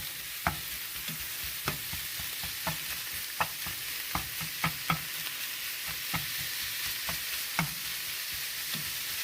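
Minced beef stir-fried in a hot pan, a steady sizzle broken by sharp, irregular scrapes and knocks of a spatula against the pan, close and fairly quiet with no talking.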